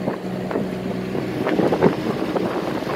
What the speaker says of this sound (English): but this wind's picked up, so now we're into this side